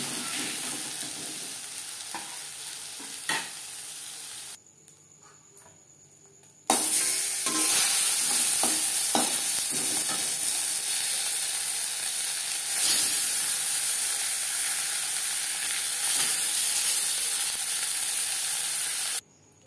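Potato french fries sizzle and crackle in hot oil in a pan, loud and close, with a short quiet break partway through before the frying hiss resumes strongly and continues almost to the end.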